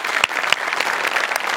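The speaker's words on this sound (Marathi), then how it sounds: "जोरदार टाळ्या." Loud audience applause at a Marathi stage comedy show, a dense burst of clapping with a couple of sharp claps standing out, continuous and close for under two seconds.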